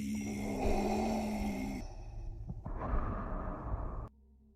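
A person breathing in an exaggerated, heavy way, with loud snorting, snore-like inhales and sighing exhales up close, then cutting off abruptly near the end.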